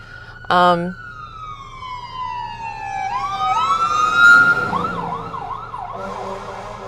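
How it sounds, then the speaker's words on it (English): Fire truck sirens wail and sweep past loudly, rising and falling in long glides that build to a peak before shifting into a faster yelping pattern, preceded by a short blast. "This is going to get loud because we got fire trucks coming."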